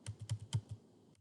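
ABAP code being typed on a computer keyboard, a quick burst of about six close, soft key presses followed by quiet.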